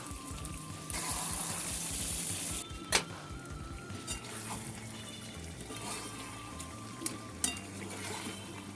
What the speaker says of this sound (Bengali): গ্যাসের জোরটা মাঝারে রেখে 10 মিনিট কষে নেব।